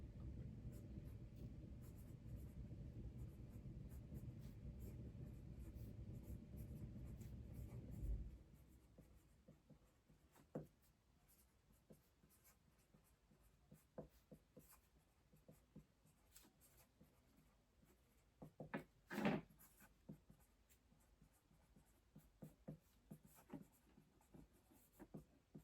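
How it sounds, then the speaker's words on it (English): Pen writing a short handwritten note on paper while packing an eBay order, a faint, soft scratching with small scattered taps, following a louder rumble of background noise that drops away early on. "So I'm gonna write my little note here because this is from eBay."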